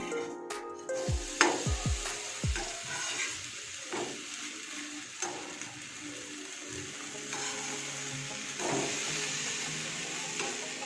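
Bread toasts on a pan spread with Amul butter, a soft continuous sizzle with a few dull thumps and scrapes as the slices are moved and flipped, close by.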